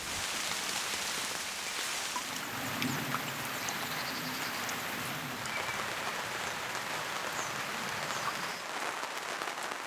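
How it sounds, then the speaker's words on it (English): Steady rain patters and hisses on surfaces nearby at an outdoor concrete pad site, a dense, constant wash of drops with no talking. "as you can probably hear, it's raining"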